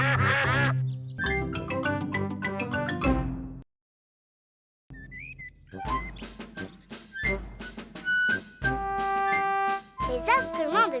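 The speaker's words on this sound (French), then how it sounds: "Dites au revoir aux canards, les enfants" Cartoon ducks from Peppa Pig quack in bright, repeated bursts alongside chirpy music and children's voices, with a short silent gap midway before the quacking resumes.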